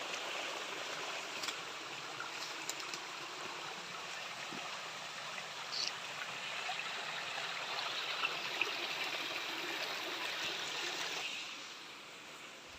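Water from an old fishpond flows steadily at a farm lot in Paete, Laguna, a continuous rushing, trickling stream that stays fairly constant and even, heard on its own without speech.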